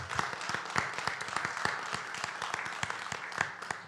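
Audience applause at a voting rights mass meeting welcoming a congresswoman, a steady spread of individual claps with distinct sharp hits, moderately distant and continuous.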